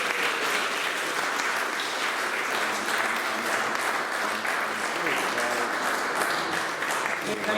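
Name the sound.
applause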